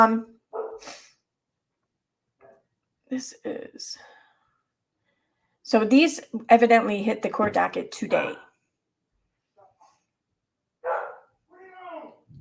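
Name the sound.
dog barking at night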